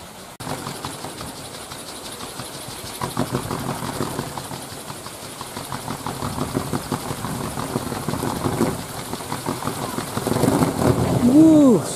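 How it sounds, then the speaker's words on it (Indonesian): A large 4-meter kolecer wind propeller at a kolecer festival spins with a steady, whirring roar of dense rhythmic pulses that builds slightly louder, heard outdoors with faint background sounds. "Udah mulai berputar nih kolecernya."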